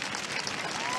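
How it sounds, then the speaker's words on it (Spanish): Audience applause at a stand-up comedy show at the Viña del Mar festival, 2017: dense, loud, continuous clapping from a large crowd filling the whole moment, with no individual claps standing out. "Muchas gracias por ese aplauso."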